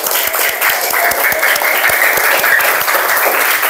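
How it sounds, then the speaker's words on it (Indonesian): A classroom group claps together in steady, continuous applause, a dense patter of many hands that stays loud and even from start to finish. "tepuk tangan untuk Mbak Nadia, Mbak Naila."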